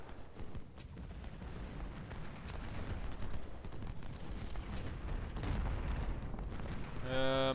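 Cannon and musket fire in the Civil War strategy game Ultimate General: Civil War, a continuous rumbling barrage of booms and crackling shots, loud and dense throughout, with a brief tonal game sound at the end.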